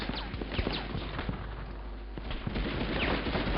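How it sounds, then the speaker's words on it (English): Gunfire in the PS1 game Medal of Honor Underground, rapid faint cracks and thuds scattered over a hissy, muffled game background. "start off by shooting this man"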